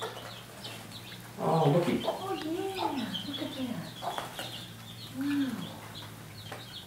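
Poultry chicks and chickens cluck and call close by in a farm shed, several short bursts of clucking, with people talking quietly over them.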